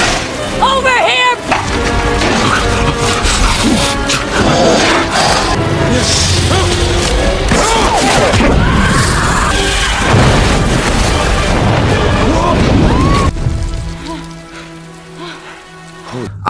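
A loud, chaotic explosion bringing down rocks, with rumbling booms and splintering, cracking debris that keeps going for a long stretch, then thins into a quieter tonal hum.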